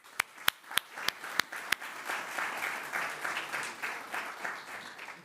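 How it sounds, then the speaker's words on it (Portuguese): An audience at a public administration open data session applauds the panel members, starting with a few sharp separate claps that quickly swell into steady sustained applause from a crowd. "Era também pedir mais um aplauso para os membros que aqui estiveram"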